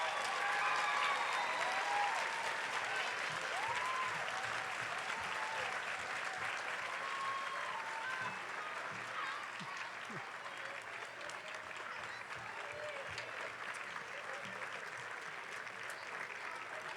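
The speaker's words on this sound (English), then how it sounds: "How about a round of applause for our directors tonight?" Sustained audience applause for the directors at an elementary honor choir concert, a steady dense wash of clapping with scattered voices and whoops mixed in, easing slightly in the second half.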